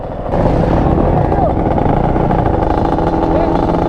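A 450 dirt bike racing a Yamaha Banshee ATV, engines roaring loud and steady up close with rising revs, wind rush over them and a voice talking at times.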